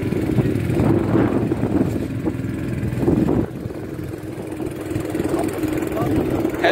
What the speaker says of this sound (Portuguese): Rebocando duas canoas que o motor quebrou lá atrás.